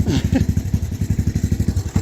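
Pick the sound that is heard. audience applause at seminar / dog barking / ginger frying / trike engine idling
trike engine idling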